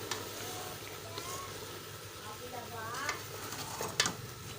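Roti halwa mixture being stirred in a pot, with steady scraping and soft sizzling throughout, a few louder clinks near the end, and faint background voices.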